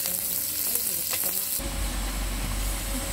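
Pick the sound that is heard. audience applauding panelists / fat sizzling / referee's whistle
fat sizzling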